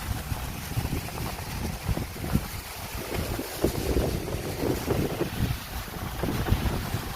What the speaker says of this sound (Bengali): প্রচন্ড পরিমাণে বালি উঠতেছে আর বাতাস হইতেছে